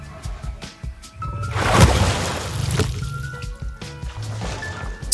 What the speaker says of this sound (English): you can hear this one splashing in and out of water